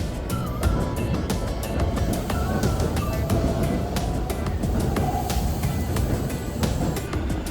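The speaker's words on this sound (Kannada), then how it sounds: "ಸೊ ಈಗ ನಾವು ಹೋಗ್ತಾ ಇದ್ವಿ ಟ್ರೈನಲ್ಲಿ." Riding inside a train in Japan: a continuous low rumble with irregular clicks and clunks from the carriage, moderately loud and steady throughout.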